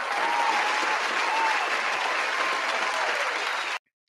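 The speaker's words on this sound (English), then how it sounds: "a quick round of applause" A crowd gives a quick round of applause, dense and steady clapping from many hands at constant loudness that stops abruptly at the end.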